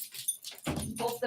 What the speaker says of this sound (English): let me get the dog in here. It'll keep barking.